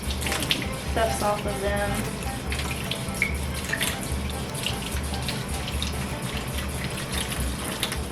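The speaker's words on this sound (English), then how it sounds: "I'm going to take all of these and wash them really good" Tap water runs steadily into a sink while freshly harvested garden zucchini are washed under it, a constant close splashing hiss as a person talks briefly.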